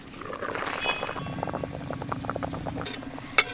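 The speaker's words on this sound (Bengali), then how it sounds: "মাছ খুব ভালোভাবে সেদ্ধ হয়ে গেছে" Rohu fish pieces simmering in a covered pot on a home stove, with a continuous soft bubbling and burbling and a sharp clink of a lid or utensil near the end.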